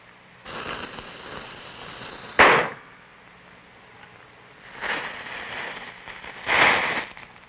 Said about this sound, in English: Confined and unconfined firecrackers.